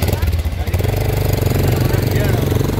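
A motorcycle engine idles close by with a steady low rumble throughout, while people talk over it.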